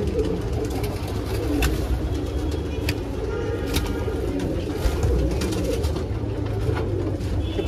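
Pigeons of a Sahanpuri fancy breed coo repeatedly and close by, a soft rolling murmur over steady background hum with faint traffic noise.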